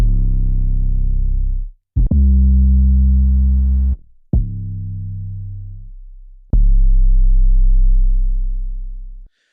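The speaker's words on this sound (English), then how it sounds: "As you can hear, these are really powerful 808s." Four deep, booming 808 bass notes play one after another, each sustaining and slowly fading, some with a gritty distorted edge.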